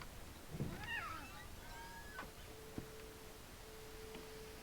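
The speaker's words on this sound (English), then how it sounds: "Oh, it's a cat." A cat meows a few times, faint and brief, in the video game What Remains of Edith Finch, over a quiet background with a steady low tone.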